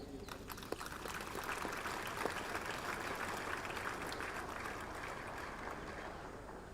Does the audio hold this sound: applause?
yes